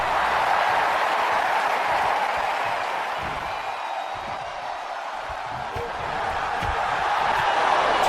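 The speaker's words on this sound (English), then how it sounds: "The crowd pumping him up." A wrestling crowd at a title fight roars and cheers continuously in a broad wash of noise throughout, swelling toward the end, with faint commentary voices underneath.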